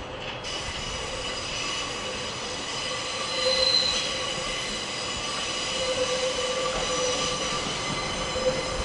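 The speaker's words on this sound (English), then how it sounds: "Here comes another northern service to Manchester Airport." A Northern passenger train at Manchester Piccadilly station rumbles along steadily nearby, its wheels squealing with high, sustained tones and brief screeches over the rolling noise. Nobody speaks.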